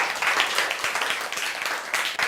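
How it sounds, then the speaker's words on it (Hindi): Classroom applause from a group of students, a burst of dense, lively clapping that carries on steadily for a couple of seconds. "इनके लिए जोरदार तालियां"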